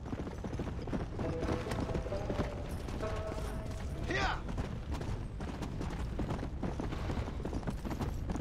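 Steady clip-clop of horse hooves in a rapid rhythm under busy game noise in Red Dead Redemption: Undead Nightmare, with mechanical clanks and a rising whistle-like tone.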